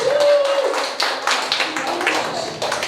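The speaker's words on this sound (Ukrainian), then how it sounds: "Давайте її оплесками зустрінемо" A small indoor audience claps to welcome a young singer at the opening of a new space for children and youth with disabilities, scattered hand claps continuing for a few seconds while a voice briefly speaks over them.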